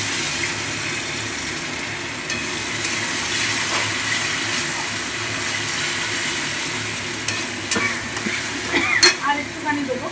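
Tomato sauce goes into a frying banana stem curry: continuous close sizzling with scraping stirs, and a few sharper clinks and knocks of the spoon toward the end.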